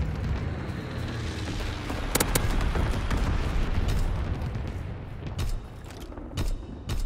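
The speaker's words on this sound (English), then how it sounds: "Dropping Fritz X-bomb." A Fritz X bomb detonates in Call of Duty WWII, a loud sustained roaring explosion with deep rumbling debris that fills the scene, followed by a few sharper blasts and crackles as it fades near the end.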